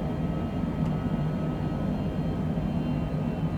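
Citation Longitude business jet in a flight simulator game, its engines giving a steady, loud broadband roar with a low rumble that holds evenly throughout, no voices present.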